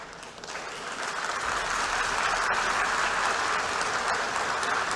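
A large audience claps at a speech, and the dense applause swells over the first second before holding as a loud, steady wash without talk.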